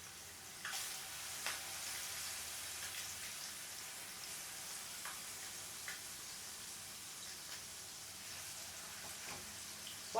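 Masala for a Tamil masala egg fry sizzles quietly in a pan, a faint, steady crackle with occasional small pops, with no talk over it.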